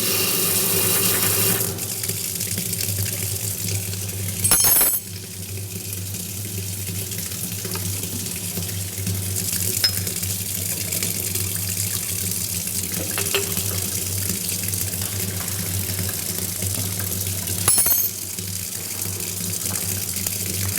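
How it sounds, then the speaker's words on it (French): A laboratory water tap runs during a filtration step in an aspirin preparation, starting as a steady, loud rushing flow that continues unbroken with a few brief clunks and bursts along the way. "Donc on va ouvrir le robinet."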